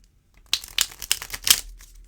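Tarot cards riffle and snap together in a quick, close shuffle, a burst of papery flicks lasting about a second and a half.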